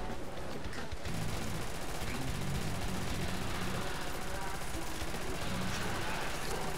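Sustained turret fire in a Call of Duty custom zombies map, a loud dense wall of rapid shots running continuously after a brief quieter opening.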